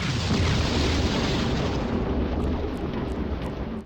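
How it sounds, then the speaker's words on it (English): Massive chain explosion of cars in a 2D Grand Theft Auto game, a dense, continuous roar of overlapping blasts and crackling booms that stays loud throughout, with no talking. "simply ignore everything and set up a massive chain explosion with enough cars"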